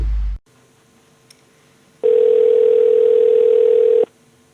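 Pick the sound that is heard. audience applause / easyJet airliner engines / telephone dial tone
telephone dial tone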